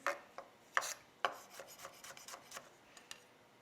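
A knife slicing gherkins on a board for potato salad, giving several quiet, close cutting taps and soft rasps in an irregular rhythm.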